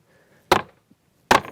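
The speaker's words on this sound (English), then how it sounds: "just hammer it out with a little sledgehammer" Two sharp, solid wooden knocks from a small sledgehammer driving a wooden block out of a classic four-way wood pallet, spaced under a second apart and heard up close with no other sound between.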